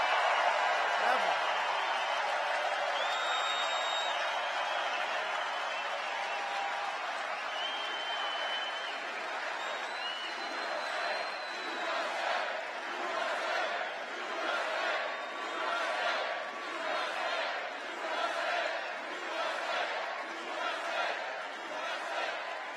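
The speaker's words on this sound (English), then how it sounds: "Boy, this crowd has a lot of enthusiasm. A hell of a crowd." A large crowd at a Donald Trump campaign rally in Green Bay, Wisconsin cheers and shouts, first as a steady roar and then as a rhythmic chant with clapping, continuing for over twenty seconds.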